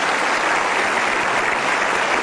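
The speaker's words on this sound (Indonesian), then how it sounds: "kita berikan aplaus" An audience claps for a guest's child at an Indian-style ceremony of tribute, a dense, steady burst of applause filling the room throughout.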